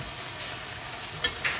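Coriander and mint sautéing with cooked tomatoes in oil in a pot for plain kuska rice, with a faint, even sizzle and two light stirring scrapes near the end.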